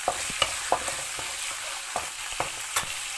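Soaked split lentils and urad dal sauté in hot oil for tomato rice, a close, continuous sizzle punctuated by regular scraping strokes as they are stirred, with no talking.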